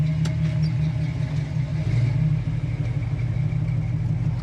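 A 1967 Chevy Camaro driving, its engine a steady low rumble heard from close inside the car, continuous and fairly loud throughout with no talking.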